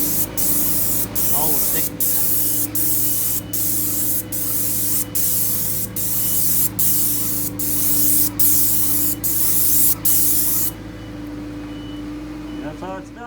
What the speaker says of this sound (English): be back brushed by hand after it gets sprayed on with the sprayer